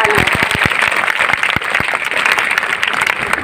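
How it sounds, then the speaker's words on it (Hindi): Loud, dense applause from an audience at a gender-equality event in an inter-college hall in India, continuous clapping filling the whole stretch with a few sharp individual claps standing out near the front. "आप सबके लिए फिर से एक बार जोरदार ताली।"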